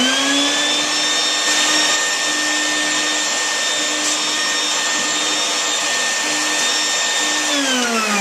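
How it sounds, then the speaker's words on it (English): A vacuum cleaner runs steadily up close as it pulls dust out of a desktop computer's cooling system and fan, giving a loud, constant whining drone with a slight pitch drop near the end. "so use the vacuum as much as you can to get up the majority of it."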